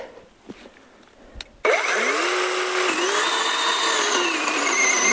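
A Grosser GCS 120SF cordless chainsaw starts after a few faint clicks and runs at a loud, high electric whine, its pitch sagging and then recovering as it is loaded, close and continuous.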